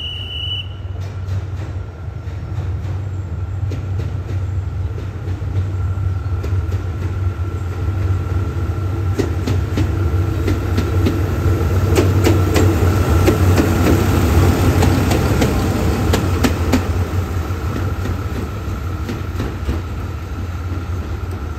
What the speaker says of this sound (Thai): GK4047 เดินตัวเปล่าไปทางด้านทิศใต้แล้วนะครับ ตอนนี้กำลังถอยนะครับมายังทางที่1ครับ